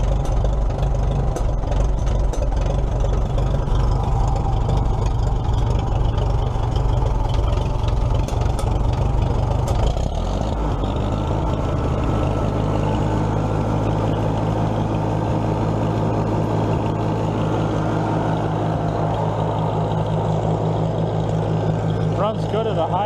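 The engine of a 1944 Minneapolis Moline ZTU tractor runs loud and steady at high RPM, a constant deep rumble close by; partway through the tone shifts to a lower, throbbing idle-like drone, with no talking.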